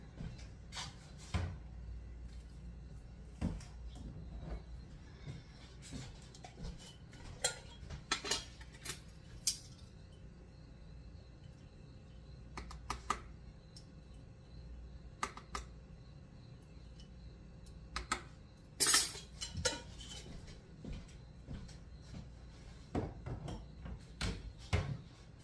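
A teaspoon measuring kelp salt gives off faint, sparse metallic clinks and light clatters against a container, quiet and close with no talking.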